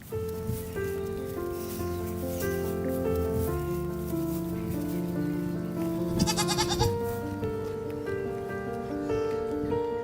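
Goat bleating once in a short wavering cry, set under loud sustained music that dominates throughout.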